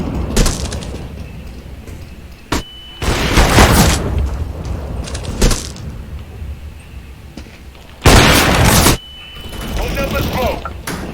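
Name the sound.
grenade explosion in the video game PUBG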